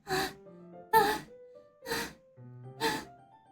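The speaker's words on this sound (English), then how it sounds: "A sharp inhale, like someone is sucking the air through their teeth." Sharp inhales through the teeth in the video game Doki Doki Literature Club: four hissing breaths about a second apart, each close and loud, with faint soft tones lingering between them.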